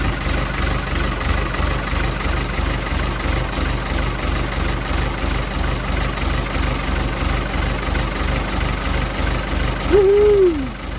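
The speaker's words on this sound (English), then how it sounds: "I'll let her idle for a bit." A Fiat 80-66 tractor's diesel engine idles nearby in an even, loud, low-pitched chug, and a short whoop-like voice or hoot rises briefly near the end.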